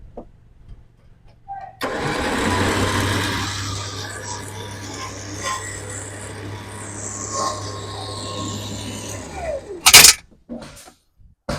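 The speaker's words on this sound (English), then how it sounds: "So now I can use my winch" An electric winch powered by a 100Ah 12.8V LiFePO4 lithium deep-cycle battery hums steadily and fairly loudly at full power for several seconds, winds down, and is followed by a short sharp clatter near the end.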